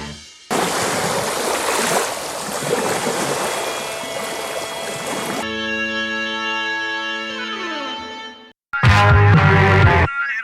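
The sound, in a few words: Topical Juice radio show jingle on Burst Radio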